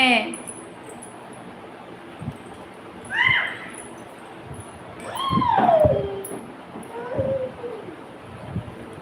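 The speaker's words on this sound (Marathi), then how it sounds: "पिल्लू इकडे या इकडे" Puppy on a rural Konkan homestead letting out a few thin, high whimpers and yips spread across several seconds, fairly faint and mixed with low background noise.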